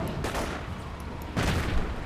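Gunfire exchange in a World War II strategy video game, with two dense bursts of shots and booms over a constant battlefield rumble, moderately loud and steady.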